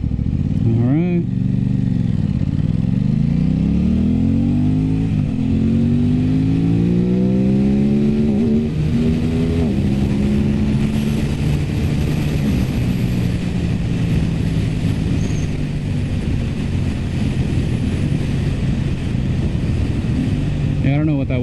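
Aprilia RS 660 sport motorcycle accelerating hard, its engine rising and dropping in pitch through several quick-shifted gear changes, loud and close for the whole stretch with a steady rushing wind noise underneath.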